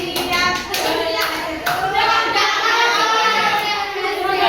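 A classroom of madrasa students claps a quick rhythmic sequence of several sharp claps near the start, then continues chanting together with voices dominating the rest.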